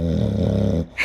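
Knox, a big dog lying close by, snores in a deep, rumbling, growl-like drawn-out breath that cuts off abruptly, followed by a short faint sniff.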